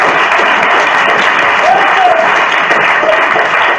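A church congregation claps steadily in a dense, continuous burst of applause that fills the room at a fairly loud, even level from start to finish, with a few faint cheers rising within it.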